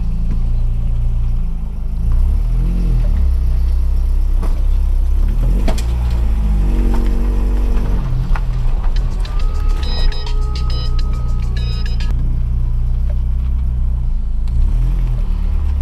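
A Renault Clio 16 engine idles steadily after a service and fault repair, a continuous low rumble with a few brief revs and a short series of high electronic beeps partway through.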